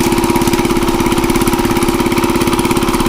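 A power tiller engine runs loud and close with a fast, steady chugging beat, the throttle held raised throughout.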